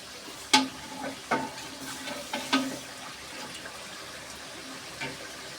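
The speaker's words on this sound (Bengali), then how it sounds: "এর মধ্যে দিয়ে দিব আমি জল পরিমাণ মতন।" Water poured into rice frying for biryani and stirred, with a few sharp scraping clanks of the spoon against the pot over a low steady sizzle, close and moderately loud, no talk.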